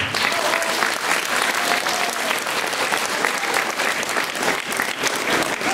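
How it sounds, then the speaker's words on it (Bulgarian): A hall full of guests at a traditional Christmas celebration applauds the youth vocal academy of the Pazardzhik Youth House, with thick, loud, continuous clapping filling the room evenly from start to finish. "Моля за вашите аплодисменти за вокална академия при Младежкия дом Пазарджик"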